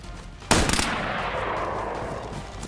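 A sharp burst of gunfire in the video game DayZ erupts after a brief quiet, a few rapid shots blending into a sustained loud crackle and rumble of game combat noise.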